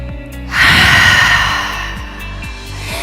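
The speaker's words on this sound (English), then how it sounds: "Take one cleansing in breath. And open mouth, exhale, let it out." One open-mouth cleansing exhale during a back-bend yoga session, a long breathy rush of air that swells quickly and then fades over about two seconds, close to the microphone and heard on its own.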